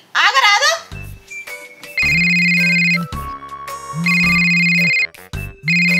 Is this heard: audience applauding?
no